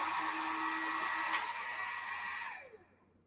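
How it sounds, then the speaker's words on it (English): A steady, breathy blowing whir with a motor hum runs for a few seconds, then winds down and cuts off. "What was that? Sounded like a hairdryer."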